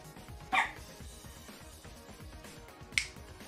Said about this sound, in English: I heard the puppy in the background